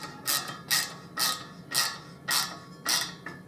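An 11mm socket being tightened on a Harley Davidson Deuce trike conversion, sounding as six evenly spaced ratcheting clicks, close and clear with no talk.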